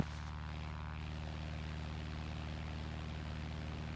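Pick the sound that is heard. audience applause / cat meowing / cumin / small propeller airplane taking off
small propeller airplane taking off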